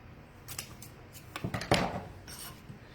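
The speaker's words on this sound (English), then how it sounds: "Let me cut that so it's out of the way." Scissors snip through ribbon during bow making, a few short crisp cuts clustered in the middle with light rustling of ribbon around them, close and fairly quiet.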